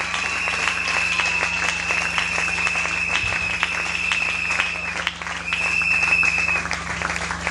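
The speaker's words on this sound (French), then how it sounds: "Est-ce qu'on peut acclamer?" A church congregation claps and cheers in a steady, loud wave of applause that fills the room, with crowd noise blending into the clapping throughout.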